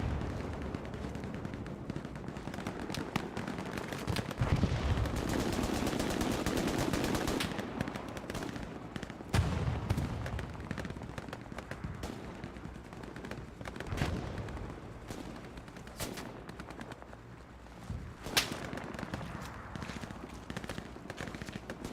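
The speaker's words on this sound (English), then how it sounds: "So I don't know who's shooting and from where." Machine-gun bursts and scattered rifle shots crack across a World War II battlefield in the online shooter Hell Let Loose, heaviest early on, then sporadic near and distant reports with rumbling explosions.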